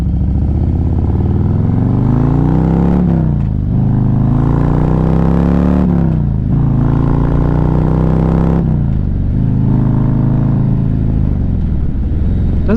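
A 2024 Harley-Davidson Street Glide motorcycle engine accelerating through the gears, loud and close, with rising revs that drop at each shift in three or four sweeps, a deep throbbing rumble throughout.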